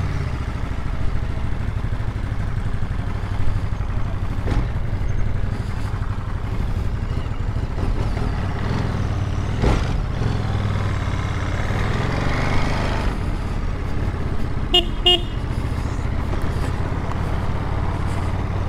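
A 2023 Ducati Monster 937 twin-cylinder street motorcycle rides around the block in sport mode, its engine a steady, moderately loud drone with brief rises and clatter throughout, no talking over it.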